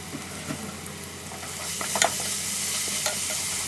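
Ginger garlic paste sautéing in a pan for prawn biryani, with a steady close sizzle and stirring scrapes, a few louder clatters near the middle, and no talk.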